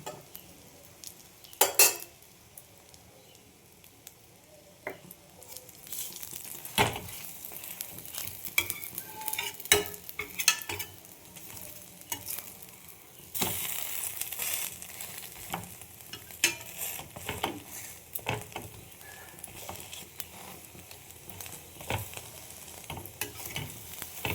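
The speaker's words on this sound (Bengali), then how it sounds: "এইভাবে চেপে চেপে ভেজে নেব যাতে কাঁচা না থাকে" An egg paratha is pressed down and fried in a pan, giving a steady close sizzle. A spatula scrapes and clinks against the metal again and again.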